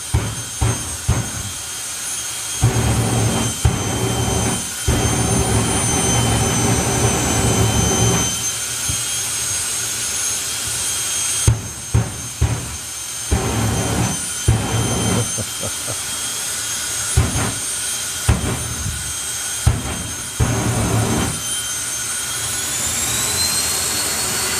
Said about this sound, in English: And spins the turbine up more.